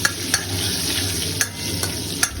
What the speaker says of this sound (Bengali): তো কাঁচা লঙ্কাটা তেলের মধ্যে দিয়ে দিয়েছি